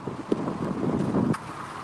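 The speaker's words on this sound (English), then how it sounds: "It's a little windy." Wind blows across an outdoor microphone, a low rumbling buffet that swells and drops for a couple of seconds with a few soft knocks, no talk over it.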